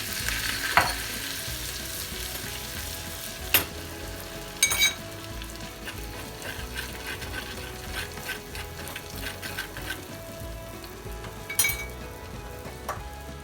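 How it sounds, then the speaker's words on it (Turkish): Butter with a teaspoon of red pepper powder sizzles steadily in a sauce pan, a close continuous frying hiss broken by a few sharp utensil clinks against the pan, no voices. "Bir sos tavasına 2 yemek kaşığı tereyağını alıyoruz ve üzerine 1 çay kaşığı kırmızı toz böyle ilave ediyoruz ve ısıtıyoruz."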